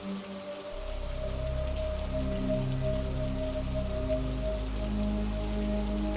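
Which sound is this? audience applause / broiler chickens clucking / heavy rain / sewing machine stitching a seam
heavy rain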